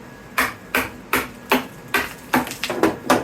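Hammer blows knock apart casting molds, about eight sharp, evenly spaced impacts landing close and loud, the last few coming quicker and doubled.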